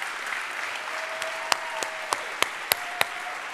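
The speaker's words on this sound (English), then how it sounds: "huge round of applause for Bert Sorin" Audience applause at a conference presentation: a soft wash of many hands with a handful of loud, evenly spaced sharp claps near the microphone standing out, and a faint tone humming underneath.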